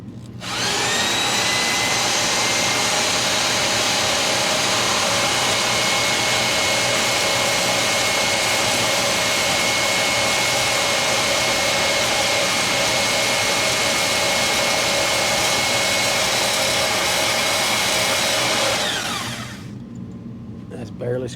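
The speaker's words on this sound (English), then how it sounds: "Now we're going to get in there with the bandsaw. We're going to whack that nipple off down there" A bandsaw grinds into a metal pipe nipple down among bolts, a loud, steady whining roar that holds for about nineteen seconds before cutting off.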